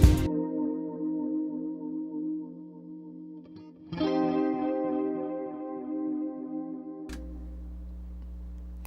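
An electric guitar chord repeats through a delay plugin whose echoes are darkened by a filter, so the softened repetitions tick away behind each fresh strike. A second strum follows, then a final harsher hit, and no one speaks.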